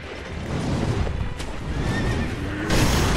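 Horse in the Sekiro video game letting out a loud whinny amid a noisy battle background, with rumbling and a sudden burst of noise near the end.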